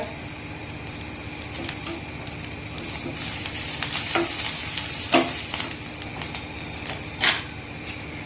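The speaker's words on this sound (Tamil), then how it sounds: "அடுப்பை கொஞ்சம் கம்மி பண்ணி வச்சுட்டு இதை வதக்குங்க." Murungai (drumstick) flowers sautéing in a pan over a low flame, a soft steady sizzle with scraping stirs and a few sharper clicks of the spatula against the pan.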